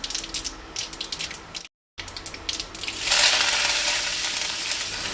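Mustard and cumin seeds sizzling in hot oil for a Goan potato dry bhaji, starting with scattered crackles and a brief cut, then swelling into a loud, steady frying hiss with clinks of a stirring spoon.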